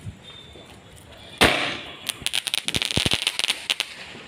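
Deepavali fireworks and firecrackers burst outdoors, one loud bang followed by a rapid irregular string of sharp crackling pops close by, with faint voices in the background.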